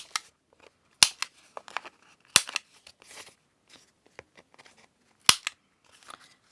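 Scissors cutting paper for a junk journal craft, heard as a few sharp close snips with softer rustles and crinkles of paper between them, set against quiet pauses.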